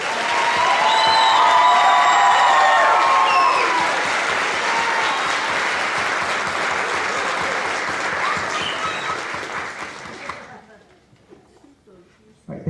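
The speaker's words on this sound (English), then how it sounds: "Let's give them all a round of applause." Sustained audience applause at a graduation pinning ceremony, loud and dense with a few cheers early on, thinning out and fading to near silence near the end.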